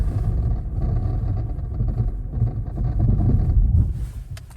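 A 2024 Subaru Forester brakes hard from about 30 in blizzard snow, giving a steady, heavy low rumble of tires and body with wind buffeting throughout and no voices.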